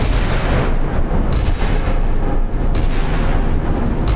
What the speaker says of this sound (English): Oh, but they're firing. Everyone can fire back.